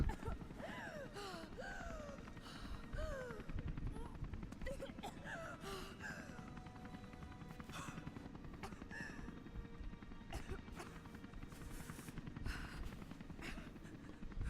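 A helicopter's rotor thrums steadily through a busy Rise of the Tomb Raider chase sequence, with gasps and effort sounds and bursts of action layered on top.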